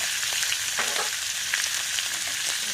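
Stir-frying in a pan for a pork bone and spinach soup, with a steady bright sizzle and a few soft stirring scrapes, close and even throughout.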